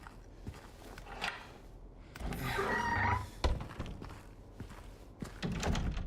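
A door in the Silent Hill 2 video game swings open with a low thunk and a creaking, scraping swell in the middle, set against dim ambient rumble and a few faint knocks.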